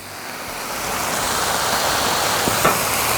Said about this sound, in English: all I'm gonna do here is I'm gonna sear them on both sides